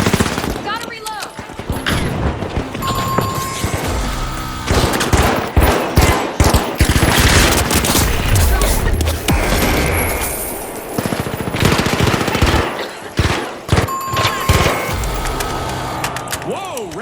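Rapid automatic gunfire in the arena shooter The Finals, loud bursts of rattling shots mixed with impacts and splintering debris, with talk in the background.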